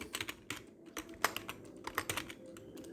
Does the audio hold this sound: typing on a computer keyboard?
yes